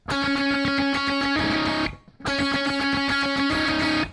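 Distorted electric guitar picks a fast, repeating triplet figure from the solo of a song, cuts off briefly, then plays the same pattern again; loud and close, no talking.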